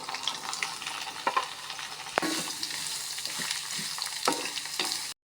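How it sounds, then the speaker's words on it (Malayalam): Finely chopped beetroot cooking in a pan, a continuous soft sizzle with occasional sharp clicks and scrapes of stirring, moderately quiet and without voices. "ബീട്രൂട്ട് ഇതായി വേവുന്നു വെന്ത് വന്നിട്ടുണ്ട്"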